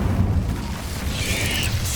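Incendio fire spell cast in Hogwarts Legacy, a loud booming burst with a whooshing flare, set over continuous low rumbling game sound for about two seconds.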